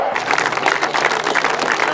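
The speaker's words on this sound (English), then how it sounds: "give a very big round of applause to the people who have organised this event this afternoon" Steady applause from an event audience honouring the Tunbridge and Malling Motorcycle Club organisers, dense and continuous clapping that stays at an even level throughout.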